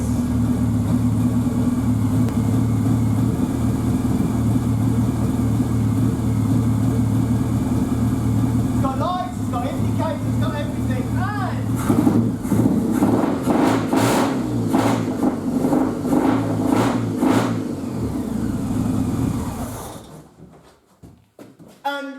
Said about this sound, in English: we've got actual running engine. Engine ticking over.